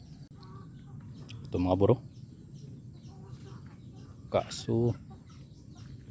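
Chickens in a neighbor's rural yard in the Philippine countryside give a couple of short clucking bursts, fairly close, over steady background noise while someone talks.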